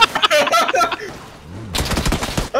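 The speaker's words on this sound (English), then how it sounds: "We got gunfire." Rapid bursts of automatic gunfire crackle loudly in a PUBG battle-royale match, a dense fusillade of sharp shots with a brief lull midway before a second volley.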